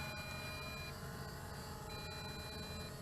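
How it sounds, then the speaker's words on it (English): A JJRC X8 Cetus quadcopter sounds its low-voltage warning during return to home, a faint, continuous electronic beeping tone heard from a distance over steady background hiss. "A constant beeping now, so it is on the second phase of low voltage return to home"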